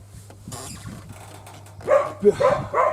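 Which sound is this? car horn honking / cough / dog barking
dog barking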